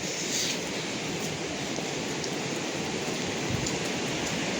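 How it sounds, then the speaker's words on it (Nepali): Steady rain falling on the Manaslu trek between Jagat and Deng, a continuous even hiss of drops on the surroundings with no talking, moderately quiet and unbroken. "पानी पर्दैछ अहिले।"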